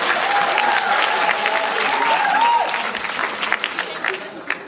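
An audience applauds loudly and continuously at the close of a live performance, a dense wash of clapping that slowly thins toward the end, with no voices rising above it.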